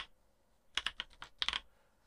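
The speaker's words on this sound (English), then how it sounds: "we're going to start typing in location" Two short bursts of typing on a computer keyboard, a cluster of quick clicky keystrokes followed by a second flurry after a brief pause, close and fairly quiet in an otherwise silent room.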